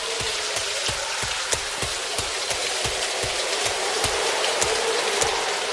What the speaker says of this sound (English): And it's starting to rain now.